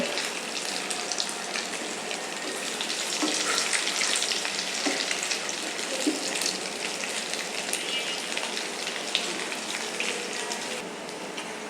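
Fish roe kofta balls frying in hot oil for a curry: a steady, close crackling sizzle with bubbling pops continues throughout at an even level, with no voices.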